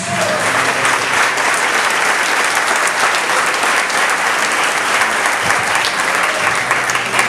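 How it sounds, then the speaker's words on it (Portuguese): A church congregation bursts into sustained, loud applause at a service, with dense steady clapping filling the whole stretch and no pauses. "aplauda o nome de Jesus"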